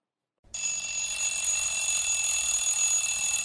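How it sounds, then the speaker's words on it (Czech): An alarm clock rings loud and continuous. A steady high-pitched electronic beeping starts abruptly and keeps going without pause. "Voku zvoní budík."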